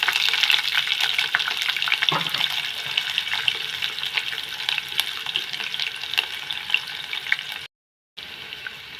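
A chopped onion fries in a pan, making a dense, bright, continuous sizzle with light stirring that breaks off briefly near the end before resuming.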